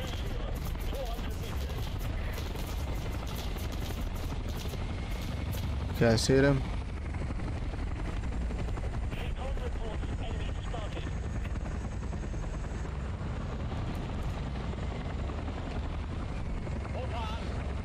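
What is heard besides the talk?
helicopter flying with gunfire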